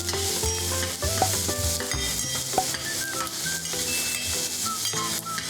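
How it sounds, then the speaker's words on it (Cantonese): Onion, garlic and spring onion sizzle in hot oil in a pot over medium heat for a Korean tofu stew, with steady frying crackle broken by scraping stirs and light utensil knocks against the pan. "先放入洋葱、蒜末同埋葱花爆香"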